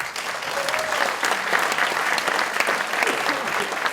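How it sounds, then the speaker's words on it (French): An audience at a political meeting in France applauds loudly and steadily for several seconds, with a voice faintly audible underneath the dense clapping. "je vous demande de l'applaudir très fort"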